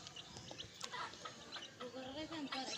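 Hens and a rooster on a small hobby poultry farm give short, scattered clucks and calls close by, with overlapping farmyard chatter throughout and a few bursts of louder squawking near the end.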